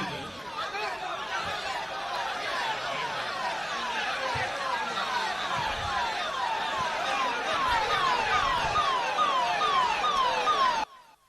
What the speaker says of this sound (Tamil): கொஞ்சம் ஒரு ஒரு ஆம்புலன்ஸ் வருது